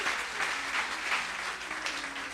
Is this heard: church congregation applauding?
yes